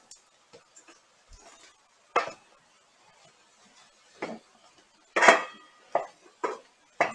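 Sausage and vegetables being stirred in a pan, with scattered scraping clatters of a utensil against the cookware separated by near silence, growing louder toward the end.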